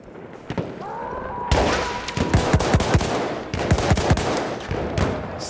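Gunfire in Battlefield 1, rapid loud shots cracking in quick bursts, close up, with a brief pause midway before firing resumes.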